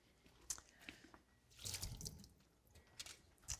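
Cold soaking water draining off garlic in a home kitchen: quiet, irregular trickling and dripping with a brief louder splashing gush in the middle, close and soft, no voices.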